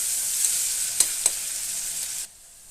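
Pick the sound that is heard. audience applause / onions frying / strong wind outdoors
onions frying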